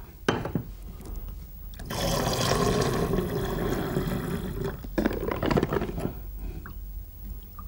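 Liquid is poured into glassware to dilute a chemistry solution, giving a close, continuous splashing fill of a few seconds, framed by brief clinks and handling noises before and after.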